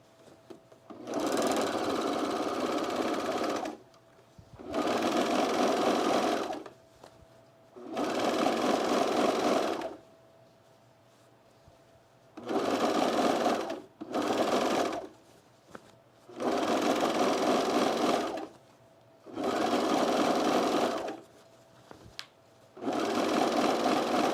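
A sewing machine hems a pair of cargo pants in eight separate close, steady runs with quiet gaps between them, no talking.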